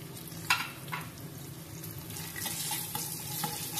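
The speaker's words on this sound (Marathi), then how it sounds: "आता ह्या सर्व जे घातलेले पदार्थ आहेत ते किंचित परतून घेऊया" Cashews, roasted peanuts and raisins sauté in a pan as a panchamrut offering, giving a soft steady sizzle broken by a few sharp stirring clicks near the start and later, with no talking.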